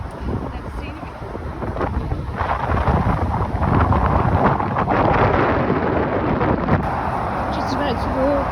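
A strong gale sweeps a Welsh coast path, and gusts hitting the microphone make a heavy, continuous rumble that builds and stays loud throughout.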